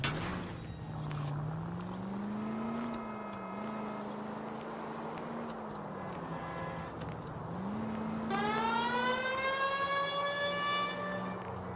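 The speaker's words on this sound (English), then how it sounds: "People might move out of the way quicker if you use the siren." Police car siren wailing in the video game L.A. Noire, a loud, rising and falling tone that runs steadily through the whole stretch over engine rumble, with a second, brighter siren pattern joining near the end.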